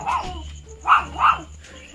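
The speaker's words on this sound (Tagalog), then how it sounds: "Ayun yung aso nila." A dog in Pangasinan barks in short, sharp bursts, two strong close barks in the middle with softer yips at the start and end, and no speech over them.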